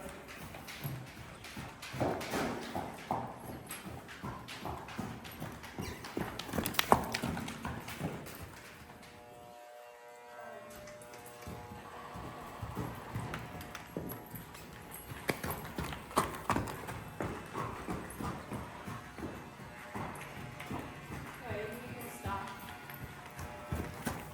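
Hooves of a Friesian/Arabian cross horse clip-clop in a steady walking rhythm, close and fairly clear, with a brief quiet pause in the middle before the footfalls resume.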